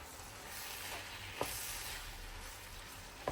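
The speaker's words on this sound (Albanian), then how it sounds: "e përzi pak masën kështu" Pie filling of lamb lung and liver, seasoned with salt and black pepper, being stirred in a pan: a steady close sizzle with a couple of brief scrapes, quiet and alone.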